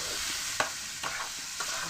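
Chillies and dried fish stir-frying in a pan, a continuous close sizzle broken by three quick scraping strokes of a spatula, with no voices.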